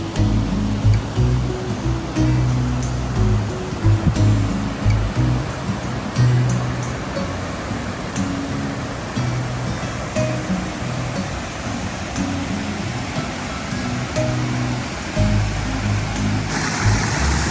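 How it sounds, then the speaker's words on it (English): Fast water rushes through a rocky stream crossing along the Pacific Crest Trail, a loud, steady roar that fills the whole scene with no breaks and no voices. "That water's moving quick."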